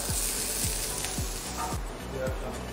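Onion frying in a pan as a tarragon cream sauce gets started, a steady broadband sizzle with soft scraping stirs running through it and no talk.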